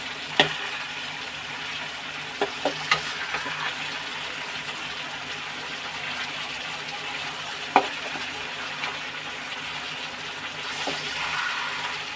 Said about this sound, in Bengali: একটু ভেজে দিই একটু ভেজে নিই